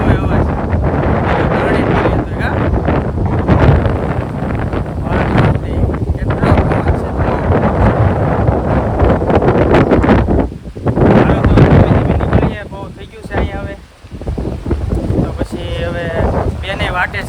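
Strong wind roars and buffets the microphone in heavy, uneven gusts, a loud broad rush that briefly drops away before surging back.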